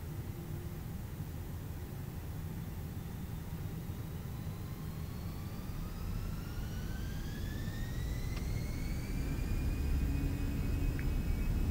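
An aircraft engine in Microsoft Flight Simulator spooling up during a takeoff roll down the runway, a broad steady roar with a whine that climbs in pitch, growing slightly louder.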